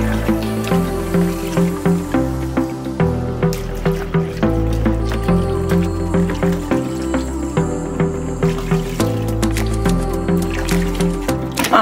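Tilapia fish being washed by hand in a bowl of water, with rhythmic squishing and sloshing splashes repeating steadily and close by, no talk.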